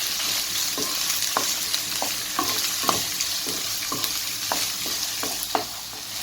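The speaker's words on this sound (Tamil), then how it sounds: "சின்ன வெங்காயம் நீட்டமாக அறுத்து வச்சுருக்கேன், அது இது கூட சேர்த்து இதையும் லைட்டாக கோல்டன் கலரில் ஃப்ரை பண்ணிடலாம்" Sliced shallots fry in hot oil with a constant close sizzle, broken by repeated sharp taps and scrapes of a spoon stirring the pan.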